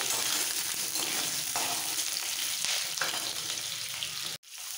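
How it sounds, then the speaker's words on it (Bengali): Potatoes stirred in hot oil in a pan, a dense steady sizzle with occasional scrapes of the spatula, close and loud with no talk, cutting out briefly near the end. "आलूगुलो तेलेर मध्य एकटू नाड़ाचाड़ा दिए दिते होबे"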